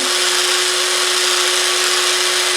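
A power drill bores through a rod in a single continuous, loud, high-pitched whine that holds steady with no pauses and no talk.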